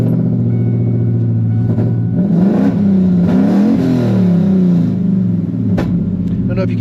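A truck with a swapped Ford Coyote V8 idles with a deep rumble, then revs up and falls back in a few rising and falling pulls, close and loud, with a voice talking over parts of it.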